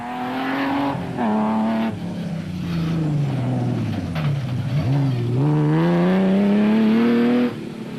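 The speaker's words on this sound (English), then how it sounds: "the Nissan was handling as impressively as it was looking" A Nissan rally car races at speed through an African rally event in 2006, its engine loud and close, pitch rising and falling with gear changes and revs, with a dip as it slows into a corner before accelerating away.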